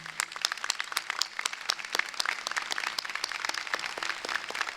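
A university convocation audience applauds a brass group of horn, trombone and tuba players, a dense crowd of sharp claps rising and falling steadily throughout, fairly distant in a large hall.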